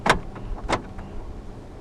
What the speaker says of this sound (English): Central locking.